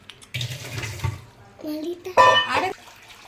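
Sour mango juice is strained for homemade ice, pouring and trickling in short bursts while a child and an adult talk over it.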